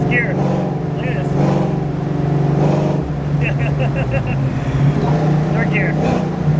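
A supercharged 1993 Ford Mustang Fox Body pulls in fourth gear with a steady low engine drone and whine from inside the cabin, while someone talks over it almost continuously.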